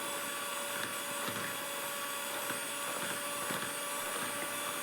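An electric mixer whirs at a steady third speed beating cake batter, a continuous motor drone with faint rhythmic knocks of the beaters against the bowl.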